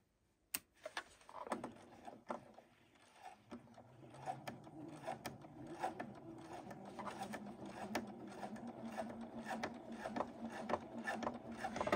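A regular home sewing machine stitching a pant hem slowly, a steady mechanical whir with faint ticking stitches that gradually builds, close and fairly quiet.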